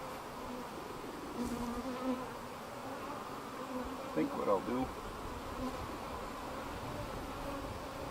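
Honeybees buzz around a hive frame as it is handled, a continuous droning hum with a few louder buzzing passes close by, while someone speaks briefly over it.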